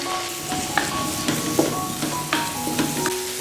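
Filling being stir-fried in a wok with oyster sauce, soy sauce, dark soy, salt, egg white and pepper, steady sizzling under repeated scraping strokes of a spatula in an irregular rhythm.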